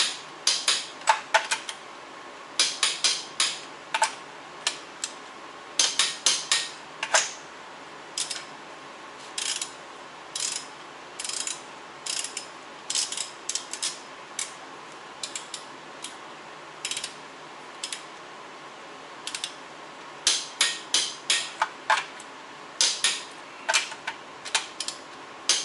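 A ratcheting torque wrench works the wheel lug nuts on a 2013 Ford Edge Limited, crisp clicking bursts repeated in short groups with pauses between, close and clear with no talking.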